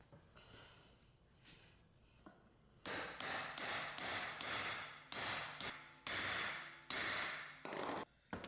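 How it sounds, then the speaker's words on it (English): A hammer pounds a pin through a driveshaft U-joint cap on a 2019-2023 Ford Ranger, giving a quick series of about nine hard, ringing metal blows after a quieter start, recorded fairly faint overall. "Then pound that pin through until the opposite side cap protrudes."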